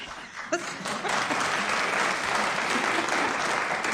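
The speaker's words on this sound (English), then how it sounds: "They're clapping for finding out something that we knew all along." A studio audience at a British panel quiz show breaks into applause, a full, steady roar of clapping that swells after a sharp sound near the start and carries on, with faint voices beneath.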